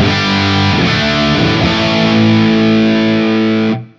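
Heavily distorted electric guitar with 80s-style pickups, played through a Seymour Duncan Diamondhead distortion pedal, rings out in thick sustained chords, loud and close, then cuts off abruptly at the end.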